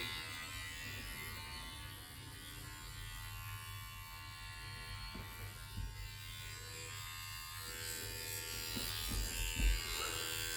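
An Acus C2 tattoo machine running continuously with a steady, fairly quiet electric buzz and hum, and a few soft handling knocks near the end.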